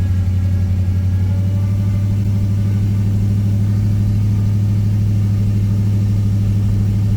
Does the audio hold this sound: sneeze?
no